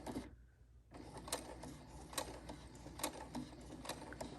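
A sewing machine stitches slowly through a thick hem seam, its needle and mechanism giving soft, close, evenly spaced clicks and thumps after a brief silence at the start.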